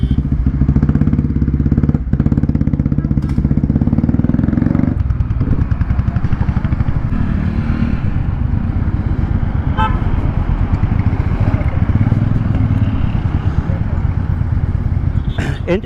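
A Royal Enfield motorcycle engine runs steadily with a rough, rattling clatter throughout on an off-road ride, while people talk nearby over the noise.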